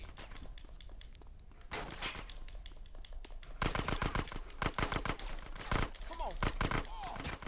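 Gunfire in GTA San Andreas: a rapid series of sharp, loud shots cracking in bursts throughout, denser in the second half, with game background sounds and short whistling tones between them.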